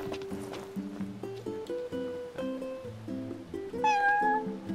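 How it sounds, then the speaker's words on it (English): A cat meows in the video game Final Fantasy XV: a few short, rising mewing calls near the end, over a steady melodic game music loop. "There's a kitty!"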